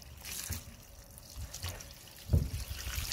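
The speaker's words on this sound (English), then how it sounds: "just gonna wash the headlight first" Water splashing and trickling over a Peugeot 206 headlight lens as it is washed, a soft, steady running flow with a slightly stronger splash near the end, heard alone.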